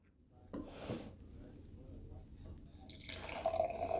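Beer, a Bell's Two Hearted American IPA, pours into a glass with low trickling and splashing that builds into a brighter fizzing rush near the end, fairly quiet and close.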